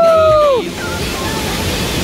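The Tirathgarh double waterfall in Chhattisgarh roars as a broad, steady wash of rushing water heard from nearby, briefly overlapped at the start by a high whistle-like tone.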